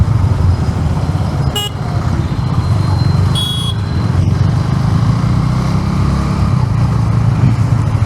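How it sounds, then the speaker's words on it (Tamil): Road traffic rumbles around a KTM Duke 390 motorcycle riding through town, with a loud, continuous engine and wind roar and a couple of brief horn toots. "இதெல்லாம் டிராஃபிக்."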